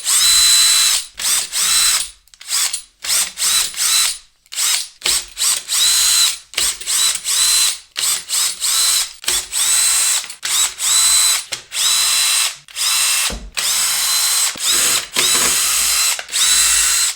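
A power drill backs screws out of a Bang & Olufsen Beolab 14 subwoofer, loud close whirring bursts repeatedly starting and stopping, with short ratcheting pauses between the many runs.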